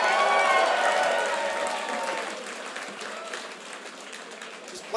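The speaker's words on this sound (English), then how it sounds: "Let's really give a big warm applause for the hometown heroes" Applause and cheering from a crowd at a hardcore show for the hometown band: a loud, dense wash of clapping and shouts that slowly fades to scattered claps.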